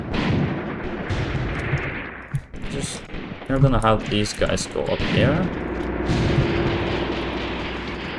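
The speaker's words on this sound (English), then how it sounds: "Oh, this gun is firing somewhere." Artillery guns fire in the World War II tactics game Graviteam Tactics: Mius Front, heavy booms and crackling gunfire rolling in bursts while someone talks over the battle noise.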